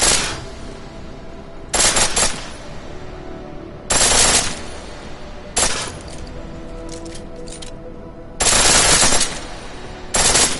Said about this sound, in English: The pistol in full auto will take down targets fast, but it'll burn through your ammo.